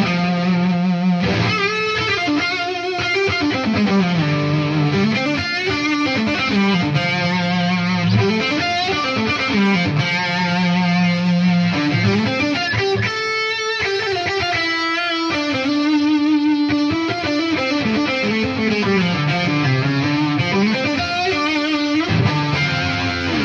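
A boosted electric guitar, an Ernie Ball Music Man Luke III on its neck pickup, plays a continuous riff with warm, thick distortion, loud and alone.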